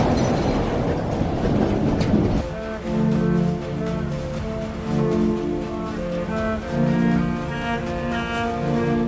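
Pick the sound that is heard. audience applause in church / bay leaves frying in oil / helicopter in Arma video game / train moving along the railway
train moving along the railway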